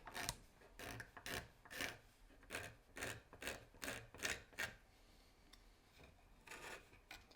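A hand scraper shaves the wood of a Mauser gunstock during inletting, giving repeated rhythmic rasping strokes about once every half second, close and moderately loud, then fading into a few lighter scrapes.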